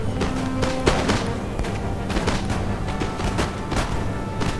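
Scattered rifle volley fire from line infantry in an Empire: Total War battle, repeated sharp cracks and booms overlapping in an uneven, continuous fusillade with dense battlefield noise beneath.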